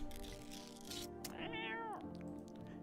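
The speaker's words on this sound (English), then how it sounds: "You reach out and pet the cat." A cat in a video game lets out a single drawn-out meow with a rising then falling pitch, heard clearly against soft game background sound.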